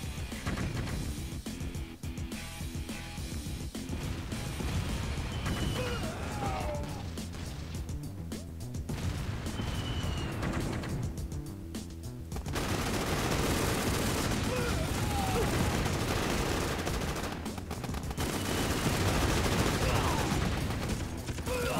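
Gunfire from scavengers in a video game, bursts of shots rattling on and off through a dense mix of game noise and effects, growing louder and busier in the second half.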